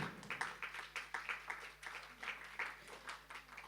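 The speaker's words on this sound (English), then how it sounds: "Another round of applause for Madame Prim" Audience applause at a workshop session, quiet and somewhat distant, with a steady patter of many hands rising and falling in loose pulses for several seconds.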